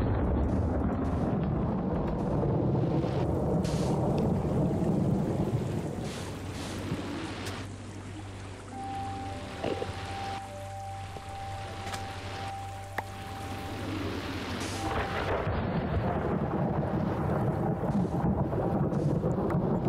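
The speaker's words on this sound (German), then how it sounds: "So lautes Gewitter." A loud thunderstorm in the Minecraft video game, with deep rolling rumble and a steady roar of rain and wind filling the whole stretch, easing slightly in the middle before swelling again.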